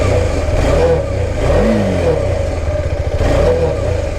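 A motorcycle engine with a pickup problem revs up and down in a steady, close, loud drone, the pitch rising and falling as the throttle is worked.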